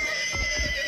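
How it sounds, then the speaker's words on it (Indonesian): Horse neighing in the survival battle royale mobile game Mission Evo, a short whinny over a constant bed of game ambience and music. "Sekarang kita punya dua peliharaan kuda"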